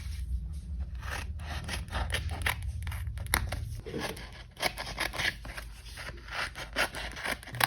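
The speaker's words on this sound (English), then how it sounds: "Let's cut out some of these stickers and make a few magnets." Scissors cutting out stickers up close, a steady run of short crisp snips and rasping paper sounds with brief pauses, moderately quiet and with no talking.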